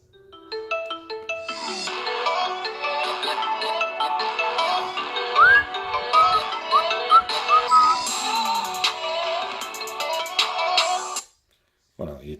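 A Xiaomi Pocophone F1 running Android 9.0 plays a ringtone: a bright, melodic electronic tune with layered tones and a steady rhythm, fairly loud and close, lasting about eleven seconds before stopping abruptly.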